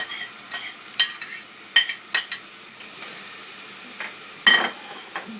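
Olives and capsicum sautéing in a pan for homemade pizza make a soft continuous sizzle punctuated by sharp spatula scrapes and stirring clacks at irregular intervals, close and alone.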